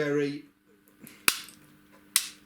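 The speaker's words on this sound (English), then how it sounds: "that's why my points sound like a rifle going off" A brief voice fades out, then a model railway points motor on a siding layout cracks twice, sharp and loud like rifle shots, with nearly a second between the snaps.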